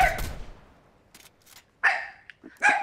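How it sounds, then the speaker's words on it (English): In a Fortnite match, a dog barks a few short, separate times at moderate distance, with quiet gaps between the barks and no talking. "Hey, dog. What's he barking at?"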